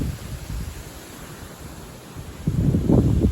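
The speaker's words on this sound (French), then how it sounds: "le vent commence à se lever" Wind picking up outdoors before rain arrives, gusting through trees and sending red leaves flying; a steady rushing bed swells into a stronger, louder gust near the end.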